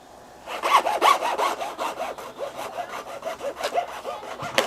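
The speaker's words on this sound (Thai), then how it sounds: "ตรงนี้คือเราเลื่อยออกมานะครับ" A hand saw cuts through 25 mm PE plastic pipe with quick, steady back-and-forth strokes, close by and fairly loud, with no talking.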